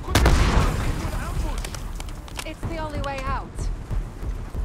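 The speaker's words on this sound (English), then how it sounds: "Throw grenade. Look out, frag." Frag grenade explosion in the Call of Duty Black Ops 6 shooter game, a loud boom at the start followed by gunfire bursts and game effects, with voices talking over it.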